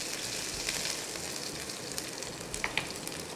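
Garlic sizzles in hot oil for dal tadka, a continuous close frying hiss with scattered sharper pops and crackles, heard alone with no talking.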